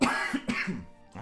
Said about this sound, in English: 1 sec, I got a cough here